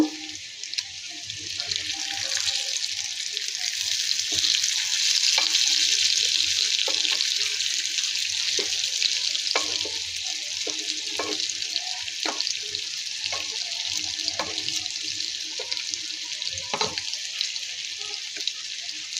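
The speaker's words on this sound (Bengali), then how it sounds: "তেলটা গরম হয়ে গিয়েছে, ভেজে নিব।" Taro slices fry in hot oil with a steady, bright sizzle and scattered pops and clicks, heard close and alone throughout.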